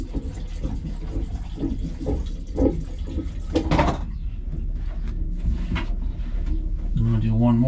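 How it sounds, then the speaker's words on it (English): A toilet pump runs while soapy water is flushed down a marine toilet fitted with a duckbill valve, giving steady rushing and gurgling water with some knocks and clunks, and a voice briefly near the end. "Toilet's still pumping."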